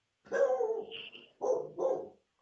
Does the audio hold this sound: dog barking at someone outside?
yes